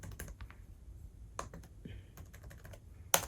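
Password keystrokes on a computer keyboard during a Linux software install, a few scattered quiet clicks with pauses between them, then one sharper key press near the end, over low room noise.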